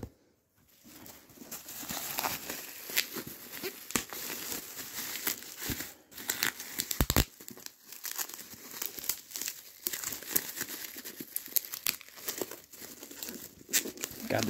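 A shipping package holding Japanese media is cut and torn open up close, with steady crinkling and crackling of packing material in irregular bursts and short tearing rips throughout.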